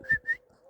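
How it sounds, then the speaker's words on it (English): Cartoon cuckoo sound effect from The Gummy Bear Show: two quick, whistle-like notes in succession, clear and close, followed by near silence. "Cuckoo sound."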